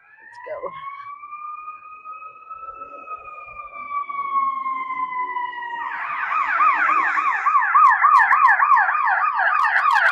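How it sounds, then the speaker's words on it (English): Two ambulance sirens passing by, a long rising wail that shifts into a fast yelping warble, growing louder and nearer toward the end, heard along a road near a construction site with mountain views. "It's two ambulances."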